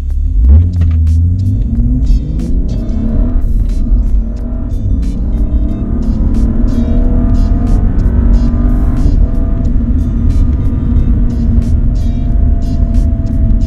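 A car engine revs hard through third gear after a BootMod3 transmission flash, loud and close, with the rising pitch climbing steadily before a shift and building again, with no talk over it.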